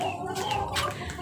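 A hen clucks in a backyard poultry pen, a short run of close, continuous throaty clucks with no talking over it.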